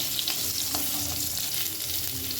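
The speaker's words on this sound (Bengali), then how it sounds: "গ্যাসের ফ্লেমটাকে হাইতে করে পটলগুলো একটু লাল করে ভেজে নেব" Pointed gourd (potol), slit with a knife, frying in oil over a high gas flame, a steady loud sizzle with occasional crackles and stirring clinks close by.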